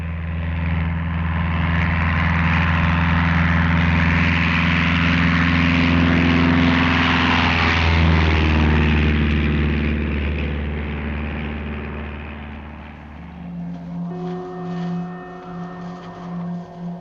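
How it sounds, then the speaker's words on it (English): A propeller aircraft drones steadily and loudly overhead, its engine tone holding for a long stretch before shifting to a lower, pulsing hum near the end, with no talk. "I am sending an aircraft to find the way."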